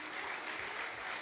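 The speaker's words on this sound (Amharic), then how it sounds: "አጨብጭቡ ለጌታ" A church congregation claps together for the Lord in a brief burst of dense, even applause that fills the whole moment.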